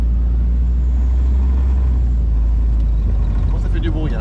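A 1942 Jeep Willys engine runs loud and steady as a deep, continuous rumble close by, with a faint higher rattle toward the end.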